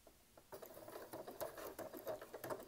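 A Janome DC3050 sewing machine stitches at its lowest speed, giving a soft, quiet patter of rapid needle ticks. The ticking starts after a brief pause and continues steadily close by.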